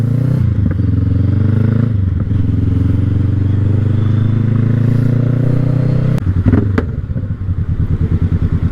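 A Honda CB500F motorcycle engine drones loudly and steadily at close range while riding, with some clattering and scraping, then the engine note shifts into a choppier, pulsing putter.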